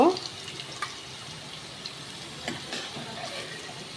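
Potatoes fry in oil for a soyabean curry with a steady, fairly close hiss and crackle that continues throughout.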